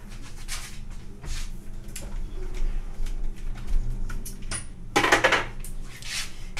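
Dishes, utensils and a blender clink and clatter as kitchen items are handled, with a sharper clattering burst near the end.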